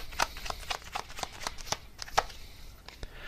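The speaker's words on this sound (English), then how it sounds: "let me just get one more card here for any extra info." Tarot cards are shuffled in a quick run of crisp riffling flicks and taps, close and fairly quiet, with no talking over them.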